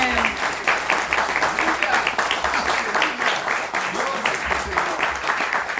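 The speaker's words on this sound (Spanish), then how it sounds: "¿Por qué no damos un aplauso al Señor?" A church congregation applauds the Lord during a Spanish-language service, dense rapid clapping filling the room loudly and continuously, with voices mixed in beneath the hands.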